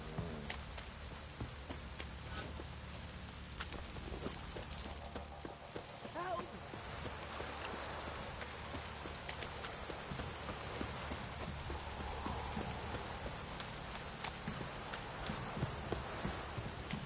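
A heavy downpour in a PS4 video game drums steadily as dense rain on surfaces, with occasional hoof-like clopping and voices talking faintly in the background.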